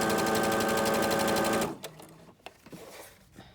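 A sewing machine stitches sofa cover fabric in a fast, steady, loud run that stops abruptly partway through, followed by a few quiet handling clicks and rustles.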